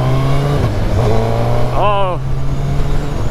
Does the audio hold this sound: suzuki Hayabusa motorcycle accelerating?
yes